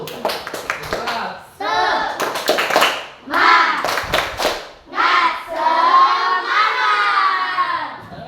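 Children in a classroom perform a rhythmic spirit clap, bursts of group clapping in set patterns mixed with loud shouted chanting, close and lively, with pauses between rounds.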